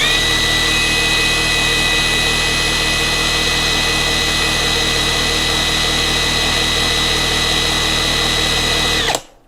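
A Kamolee DTW285 cordless impact wrench runs steadily at full speed with a loud, continuous high-pitched motor whine for about nine seconds before cutting off abruptly.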